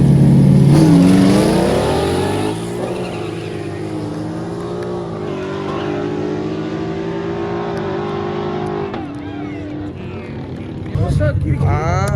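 A turbocharged Texas street truck revs its engine, the rising and falling tone loud and close throughout, and a brief louder burst comes near the end as people talk over it.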